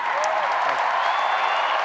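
Crowd at a Republican political speech cheering and applauding, a steady dense wash of clapping and voices held at an even level throughout.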